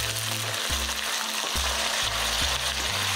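Chicken pieces frying in hot oil with bubbling caramelized rock sugar give a loud, steady, close sizzle, with stirring and tossing running throughout, and no voices.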